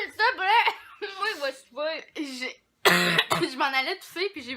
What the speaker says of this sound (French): je m'en allais tousser puis j'ai voulu exagérer pour faire rire